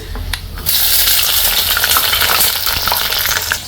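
Sliced shallots and garlic hit a hot pan and break into a loud, close sizzle after a quiet start, then keep frying steadily with small pops and scraping stirs.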